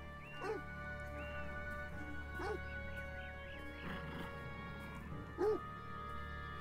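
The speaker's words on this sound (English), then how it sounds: "My dog does that. Always barking at people." A dog barks outdoors in short separated bursts, a few sharp yelps and woofs spaced a couple of seconds apart over a steady background hum, fairly distant and moderate in level.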